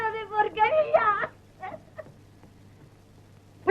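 A cat yowls loudly in a short wavering cry, followed by fainter scattered noises and a brief final call, close by.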